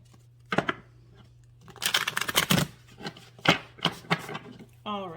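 Several quick papery shuffles and slaps of cards, close and uneven in rhythm, ending with a brief voice at the very end.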